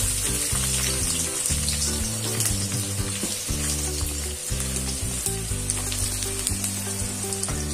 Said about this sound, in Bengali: বাবা এখন পেঁয়াজ ফোড়ন দেবে, তাই তো?